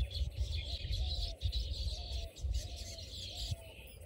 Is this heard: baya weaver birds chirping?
yes